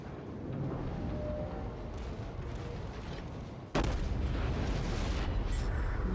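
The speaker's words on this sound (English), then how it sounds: "Fire off my forward batteries again." Forward battery naval guns of the battleship USS New York firing in World of Warships, one loud, sudden heavy boom breaking over steady engine and sea rumble and then rolling on in a sustained roar.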